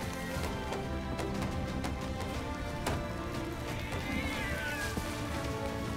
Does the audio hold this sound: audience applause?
no